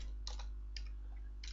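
Keys tapped on a computer keyboard while entering a math formula: three short clusters of quick, light clicks, close and fairly quiet over a steady low hum.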